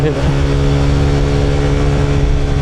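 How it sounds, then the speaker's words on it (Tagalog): A Honda ADV 160 scooter engine accelerating, heard as a loud, continuous mid-pitched drone with steady harmonic whine throughout. "Parang masyadong galit yung makina."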